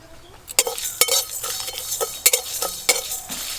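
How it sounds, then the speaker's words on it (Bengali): Dry spices for a pickle are stirred in a dry pan with no oil, giving a series of scraping clinks and rattles from the utensil against the metal, close and moderately loud. "সমস্ত মশলা একটু লাল লাল করে ভাজবো।"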